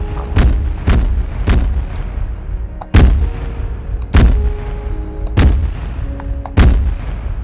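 Anti-aircraft gun in a vehicle video game firing shells, a series of about eight loud, sharp booming shots spaced roughly a second apart, each with a short decaying tail, no talking.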